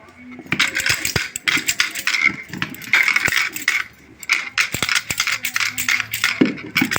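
A spoon stirs banana-leaf rice in a metal cooking pot, giving close, busy scraping and clinking in irregular bursts with short pauses.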